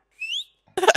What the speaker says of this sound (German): Hör mal auf zu pfeifen